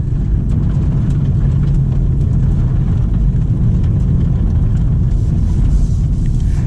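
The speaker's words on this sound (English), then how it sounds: "Now you get some burble from that exhaust as I lift off the gas." BMW M340i LCI rear-wheel-drive sedan on the move, exhaust burbling on lift-off while held in a higher gear; a deep, steady low rumble of engine and road noise fills the cabin without pause, loud and close.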